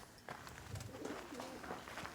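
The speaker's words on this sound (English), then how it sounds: "Lots of pigeons here, you guys." Pigeons at a bird rescue give soft, low cooing calls, a few faint repeated coos over a quiet background.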